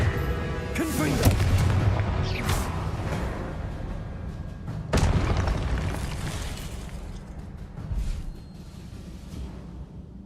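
Blasts from the Confringo fire spell in Hogwarts Legacy on PS5: a loud booming burst near the start, a second sharp explosion about midway, and a smaller crack late, each trailing into crackling game noise and rumble.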